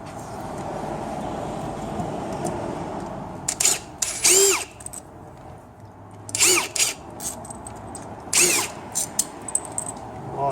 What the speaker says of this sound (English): And now we'll just take those bolts out.